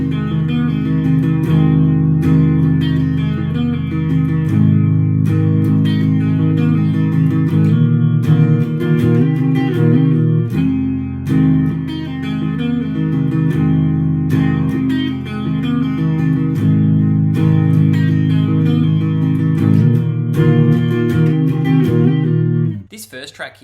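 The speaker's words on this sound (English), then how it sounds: "I've also just chucked on a bit of a chorus effect" An electric guitar with a chorus effect played through an amp, with sustained shimmering chords and picked notes ringing in a steady rhythm, close and alone before cutting off at the end.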